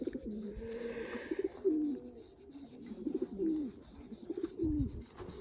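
Pigeons coo softly and repeatedly at a pigeon flying competition, the rolling calls overlapping at a moderate distance with faint background noise and brief rustles.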